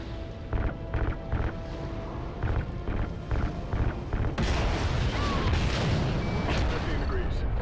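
Heavy weapon fire aimed at a spaceship in the Call of Duty: Ghosts campaign, a steady run of regular booming shots that gives way to a dense, loud roar of continuous blasts and crashes.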